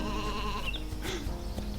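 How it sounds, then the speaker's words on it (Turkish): A sheep bleats up close in the video game Isle of Ewe, a wavering animal cry over a steady background hum. "Koyun."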